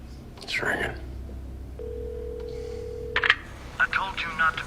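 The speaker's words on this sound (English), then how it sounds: "It's ringing" A phone line rings after dialing, a single steady ringback tone held for about a second and a half, with hushed voices murmuring before and after it.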